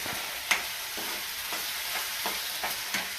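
Turmeric being stirred in hot oil in a pan while making mango fish curry: a constant sizzle with soft, regular scrapes of a spoon roughly every half second.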